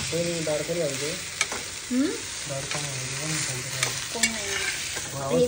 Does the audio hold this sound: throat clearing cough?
no